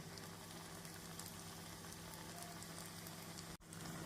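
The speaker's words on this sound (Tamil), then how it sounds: "நாம் ஹை ஃப்ளேமில் வைத்து வடையை போட வேண்டும்." Chickpea vadai fry in hot oil over a high flame, giving a dense, continuous bubbling sizzle heard close up, steady throughout with one brief clink near the end.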